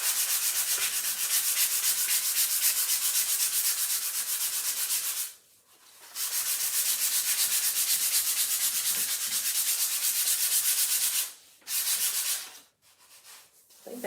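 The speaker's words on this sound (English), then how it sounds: "I've got a piece of sandpaper right here that's a finer grit." Fine-grit sandpaper rubbing steadily over a small wooden heart, a continuous close hiss of back-and-forth strokes broken by a few brief pauses, with no voices.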